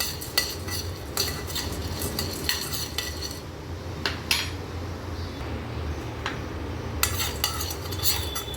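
Pottukadalai (roasted gram) being dry-roasted in a pan, with repeated dry scraping stirs and the rattle of dal against metal, close and moderately loud.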